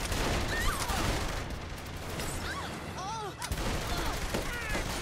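SMG gunfire rattles in the video game Saints Row: The Third, continuous rapid bursts of shots over a dense battle din, with someone talking over the shooting.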